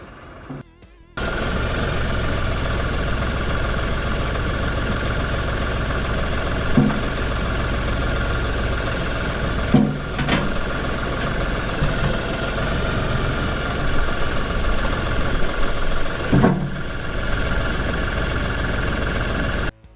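A tractor fitted with a front-end loader idles steadily for the whole stretch, a loud, even engine drone with a few metallic clunks and knocks over it and no talking.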